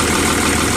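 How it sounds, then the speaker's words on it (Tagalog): Diesel engine of a Volvo EC210BLC excavator running steadily at idle after fuel bleeding, a dense continuous close-up rumble with no pauses. "para umandar yung makina natin."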